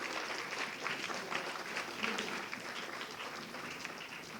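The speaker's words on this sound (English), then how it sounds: "they deserve really a very big, big applause" A school debate audience claps steadily for several seconds, a dense, even patter of many hands at moderate distance, with a faint murmur of voices underneath.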